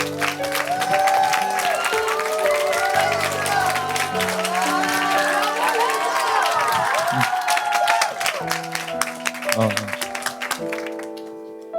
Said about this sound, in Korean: 우리 박수로 우리 이혜준 학생 모시도록 합니다.